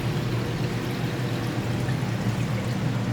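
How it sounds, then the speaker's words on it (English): Water being poured out of a fish container holding water laden with ammonia, a steady, continuous splashing stream that runs close and fairly loud throughout with no pauses. "Let me dump some more of this water out, because there's a lot of ammonia in this water."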